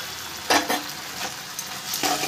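Fried potatoes tipped into a pan of spiced fish for a banana-flower dish, giving a few bright hissing bursts of sizzle and stirring over a steady low frying crackle.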